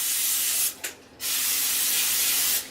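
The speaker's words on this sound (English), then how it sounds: "We're just going to spray these down again." Cooking spray hisses from an aerosol can into a cake pan for a Christmas rum cake, two sustained bursts with a short pause between them, close and fairly loud, with no talking.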